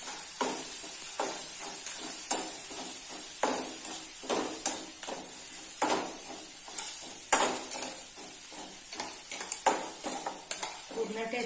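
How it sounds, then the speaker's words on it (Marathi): Thecha, a crushed chili paste, sizzles and fries in a pan while being stirred, with a steady hiss broken by repeated scraping and stirring strokes at close range. "आपण ठेचा चांगला परतून घेऊया व्यवस्थितपणे"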